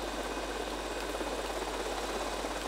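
Helicopter engine in Grand Theft Auto Vice City, a steady dense rotor-and-engine drone that holds at an even level with no talk over it.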